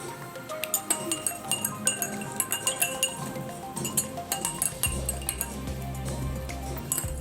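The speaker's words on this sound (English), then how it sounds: "So we have to stir it till it dissolves." A spoon stirs sugar and salt into water in a drinking glass, making quick repeated clinks against the glass, close and fairly loud, with a low hum joining in toward the end.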